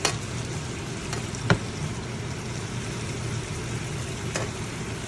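A steak sears in a pan of butter with garlic, giving a soft, steady sizzle with a couple of brief clinks and ticks and no talk.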